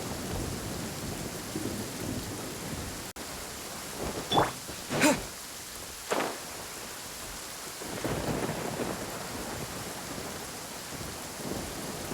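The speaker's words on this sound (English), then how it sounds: "This heavy rain must be quite an inconvenience for you." Heavy rain pours steadily in Genshin Impact, with a sharp crack of thunder and a few rumbling rolls midway, close and loud against the constant hiss of rain, no voices.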